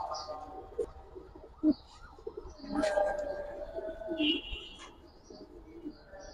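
Pair of Damascene pigeons cooing softly at a pigeon market, low murmuring coos scattered through the clip amid a busy background of voices and other birds chirping.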